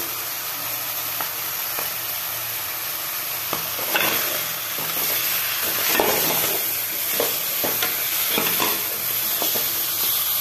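Meat frying in a pot while being stirred, with a steady sizzle under intermittent scraping and clanking of the spoon against the pot, close and fairly loud, no voices.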